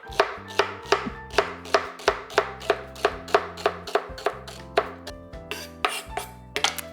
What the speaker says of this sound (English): the next thing I'm gonna do is chop your celery, and I just like to chop mine very finely